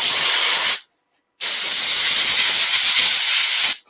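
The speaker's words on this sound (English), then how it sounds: "You might hear the compressor come on." Air compressor blowing excess grit out of an elm wood platter, a loud, close hissing blast of air that runs briefly, stops for about half a second, then resumes steadily until the end.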